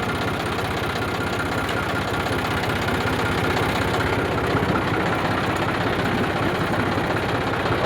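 A used one-owner John Deere 5045 D diesel tractor idles close by. Its steady, even, knocking rumble runs unbroken throughout, with no voices over it.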